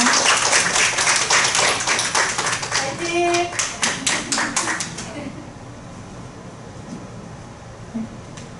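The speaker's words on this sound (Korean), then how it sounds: "우리 격려의 박수로 우리 김나혜 학생을 맞이하겠습니다." Audience at a special education community forum claps to welcome a high school student, brisk distinct claps that thin out and stop midway, followed by quiet room tone; someone calls out a cheer during the clapping.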